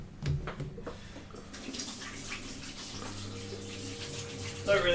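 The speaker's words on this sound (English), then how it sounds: "Don't really know why I'm washing my hands because they're about to get covered in flour again anyway." Hands being washed under a running kitchen tap during biscuit baking, a steady broadband water rush lasting most of the clip with clattering near the start and voices chatting in the background.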